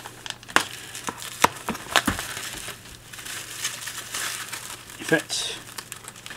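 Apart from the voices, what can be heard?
unwrapping packaging around MacBook keyboards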